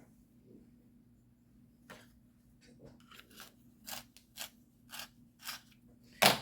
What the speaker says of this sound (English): Sharpening my pencil again.